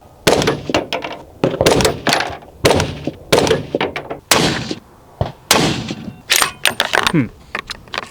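Rifle shots from .308 and .223 rifles fired at a range, a rapid series of sharp, loud close cracks with brief gaps between shots and a few clanks between them.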